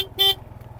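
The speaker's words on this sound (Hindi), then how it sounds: "सामने से गाड़ी आ रही है" A jeep approaching on a mountain road in Basho Valley, Skardu, gives one short horn toot over a low, pulsing engine rumble close by.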